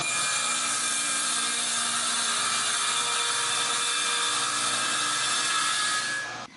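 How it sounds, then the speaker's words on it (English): A saw blade cutting dadoes partway through a wooden board for a whiskey box, a loud, steady high whine with a grinding edge that holds for about six seconds and then cuts off. "I raised the blade so it wasn't quite cutting through half the board, and then proceeded to make the dado cuts"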